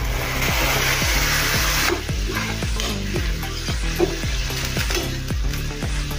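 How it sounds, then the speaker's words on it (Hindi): Water poured into ground masala frying in oil in a pan for halwai-style puri bhaji curry gives a loud, continuous sizzle, with steady rhythmic stirring scrapes throughout and no talking. "अब इसमें हम पानी डालेंगे।"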